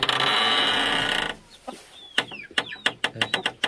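At a rural Vietnamese home, a steady noise fades out and chickens begin clucking in a series of short, fairly close calls, with what may be a rooster's call among them; no one talks.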